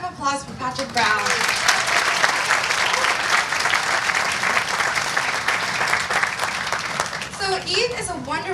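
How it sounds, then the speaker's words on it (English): A round of applause at a community Eid party, a crowd clapping loudly and continuously for several seconds after a host's spoken introduction, with a voice briefly heard again at the end. "Let's hear a round of applause for Patric Brown."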